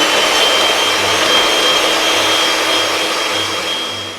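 An electric hand mixer whisks cream with a tablespoon of icing sugar toward soft peaks, a steady, loud motorized whir running throughout and easing slightly at the end.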